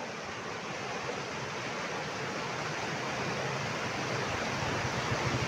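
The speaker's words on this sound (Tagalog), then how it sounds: "Ang lakas ng awas ng tubig." Strong, rushing flow of water in an outdoor picnic spot, a dense, continuous roar that stays loud and steady from start to finish with no voices.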